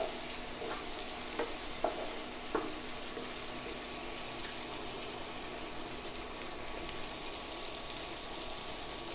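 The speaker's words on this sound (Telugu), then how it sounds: "ఆనియన్స్ వేగినాయండి" Onions and green chillies frying in a pan for a beans and moong dal stir-fry, a steady soft sizzle running throughout with a few faint clicks of stirring near the start.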